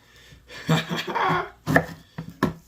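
A knife chops jalapeños on a cutting board in a few separate, close knocks spread across a short stretch, with small rustles of handling between them.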